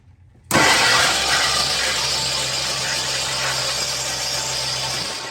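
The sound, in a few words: 1969 Lincoln Continental engine cranking without starting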